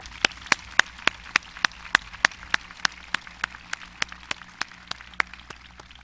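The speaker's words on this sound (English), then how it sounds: "could we just give him another round of applause for everything?" At a high school graduation ceremony, sharp single claps ring out at a steady, regular pace, a few sparse hand claps heard fairly close over a quiet background rather than a full crowd ovation.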